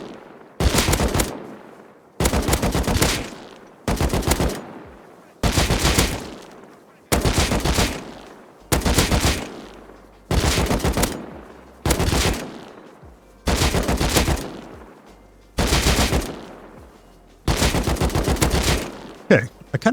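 Rapid automatic gunfire from the video game Rust during aim training on targets, about eleven loud sustained bursts of roughly a second each, separated by short pauses, close and dominant.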